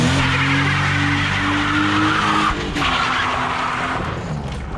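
A BMW 325i coupé spinning its wheels and skidding on gravel: a loud, close tire roar with a rising engine tone, a brief dip partway through, then the skid carrying on before fading slightly at the end.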